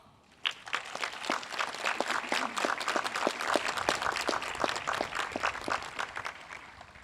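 Audience applause at a Marist College commencement ceremony for graduate and adult students, a sudden burst of many hands clapping that stays steady and fairly distant for several seconds with no talking over it.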